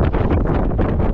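Strong, gusting wind buffets the microphone with a loud, continuous roar for a brief moment, with no voices.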